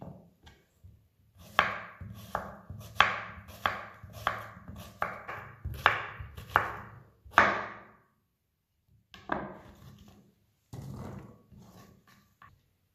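A knife cuts zucchini into even slices on a cutting board, a run of crisp, rhythmic chops close by, then a pause and a few more scattered cuts, with no talking.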